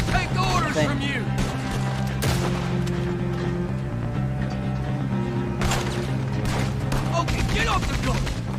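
Video game gunfire during a train robbery, bursts of loud shots over a droning background, with voices talking throughout.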